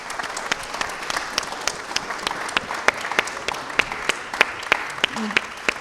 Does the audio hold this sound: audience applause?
yes